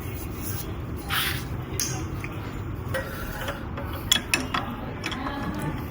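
A tool ratchets and clicks against the suspension preload adjuster of a BMW G310 GS motorcycle, giving scattered metallic ticks and scraping over a low background rumble, up close with no talking.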